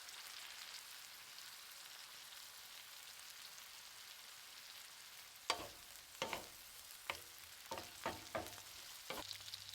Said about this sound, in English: I'm going to hit these onions with just a little bit of Worcestershire sauce.